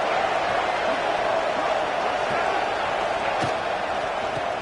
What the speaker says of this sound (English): A big third down coming, and hotty-toddy, gosh almighty, this crowd is ready.